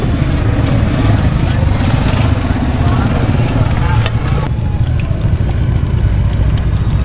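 Water poured while cooking outdoors in South Cebu, a steady rushing pour over a low, rumbling background that keeps going for around seven seconds, its brighter hiss dropping away partway through.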